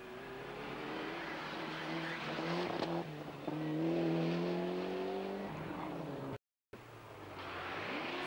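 Ford Sierra Cosworth rally car at a 1991 rally, engine note climbing through gears and holding as it passes, fairly faint with a short gap in the sound.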